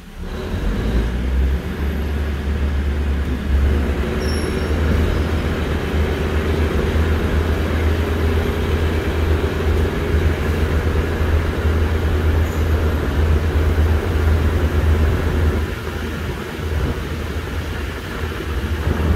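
Local diesel railcar train 427 runs along the line after leaving Chakkarat station, giving a steady low rumble with continuous rolling wheel noise, constant and close throughout.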